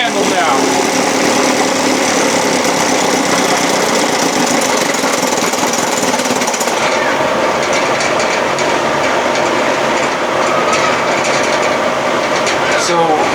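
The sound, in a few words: Evinrude 7.5 outboard motor idling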